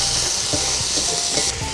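Rohu fish head stirred in a frying pan, sizzling steadily and close, with several soft scraping strokes of the spoon through the hot oil and no talking.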